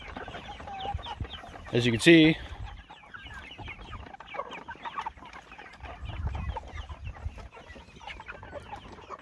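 Pastured meat chickens at seven weeks cluck steadily through the scene, with one louder burst of nearby fowl calls partway in, while someone talks over the flock.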